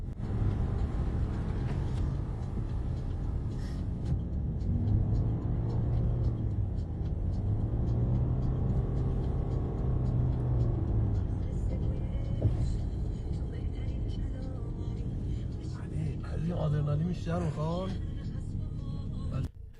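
A car driving on a highway in Tehran, a continuous low road rumble and engine drone with some tonal shifts, under steady talk throughout.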